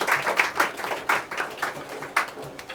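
A congregation at a church Bible study claps hands in a short burst of several quick, uneven claps, fairly close and moderately loud, with no talking over them.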